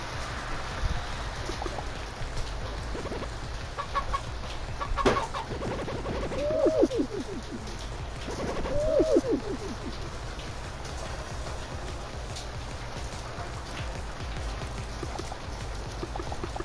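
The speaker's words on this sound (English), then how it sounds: "It is literally pouring outside" Heavy rain pours outside in a steady, broadband hiss for the whole stretch, with a few brief animal-like calls rising midway.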